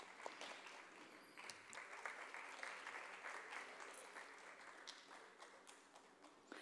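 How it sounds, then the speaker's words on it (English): An audience at a veena concert applauds to welcome a mridangam accompanist, steady, dense clapping from a hall crowd that fills the whole stretch and tapers slightly at the end. "Please give him a very big round of applause."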